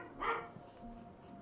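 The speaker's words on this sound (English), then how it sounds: "my dog was barking, so I had to let him out" One short, muffled dog bark sounds from another room, faint and alone, followed by quiet room tone.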